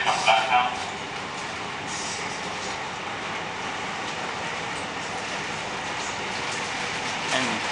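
A Sydney S set suburban passenger train running between Marayong and Blacktown, heard from inside as a steady rumbling roar with faint rail clatter, close and continuous.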